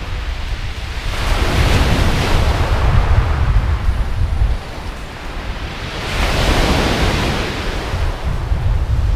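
Strong wind buffets the microphone on Hythe beach in Kent while surf breaks steadily, a loud continuous roar that swells in two long gusts and eases between them.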